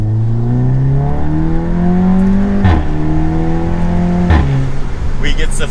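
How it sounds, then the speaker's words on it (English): An Audi S3 with its exhaust valve open and set to dynamic and manual mode, engine revving loud and close with rising pitch, two quick shifts interrupting the climb. "if I open the exhaust valve, put us into dynamic mode and manual mode, the whole car wakes up a little bit"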